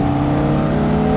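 A 1962 Ferrari 250 GT SWB engine accelerating, a loud, dense, steady mechanical roar with a rich harmonic tone, pulling smoothly and continuously up close.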